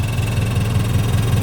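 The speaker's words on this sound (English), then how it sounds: "That noise is basically my Tomei exhaust that has cracked yet again in the same spot." A car with a cracked Tomei exhaust mid-pipe idles close by, giving a low, rhythmic putter with a steady throbbing pulse and no talk over it.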